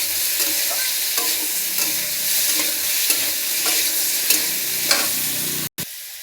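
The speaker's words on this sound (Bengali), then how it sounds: "এই যে কচু ভাজা হয়ে গিয়েছে" Taro (kochu) frying in a pan, with a continuous loud sizzle and regular scraping strokes of stirring up close, ending in a brief break.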